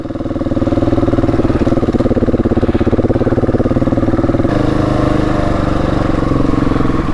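Husqvarna 701 Enduro single-cylinder motorcycle engine running steadily at low revs, a loud close throbbing pulse that holds even throughout with only slight shifts in tone.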